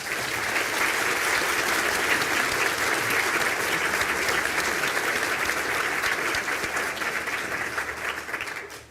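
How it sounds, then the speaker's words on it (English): A large audience at a spring conferring ceremony gives a sustained round of applause for Building and Civil Engineering graduates, dense steady clapping filling the hall before tapering off at the very end. "Can the graduates of the Department of Building and Civil Engineering please stand for a round of applause?"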